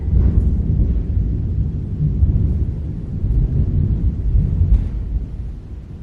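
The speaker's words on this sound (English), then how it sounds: "That was a lot of thunder." Thunder rolls in a deep, sustained rumble, with heavy low booms swelling and fading over several seconds, loud and continuous.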